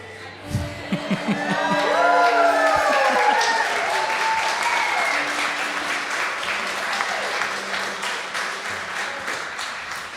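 A comedy club audience bursts into loud, sustained applause with cheers and whoops, the dense clapping holding for several seconds before thinning into scattered claps, and someone speaks briefly at the start.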